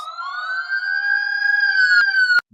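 A loud siren wails in a steady, slowly rising tone, harmonics stacked clearly, then cuts off abruptly with a sharp click near the end.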